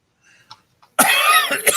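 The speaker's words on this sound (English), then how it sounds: "Now that I'm coughing up a lung." A single harsh cough bursts out after a quiet stretch with faint small noises, rough and close, ending with a short rasp.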